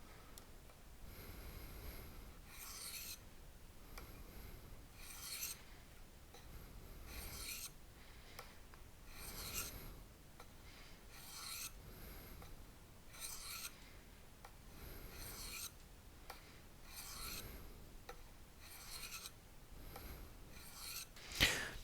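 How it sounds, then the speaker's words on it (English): A fixed-blade EDC knife sharpened freehand on a stone, with a steady series of quiet rasping strokes in regular rhythm, close and alone. "The whole key to freehand sharpening is remembering your angles."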